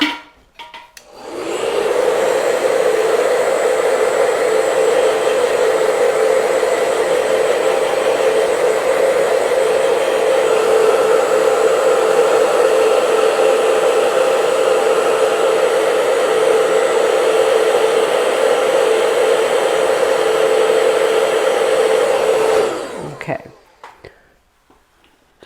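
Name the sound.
hair dryer blowing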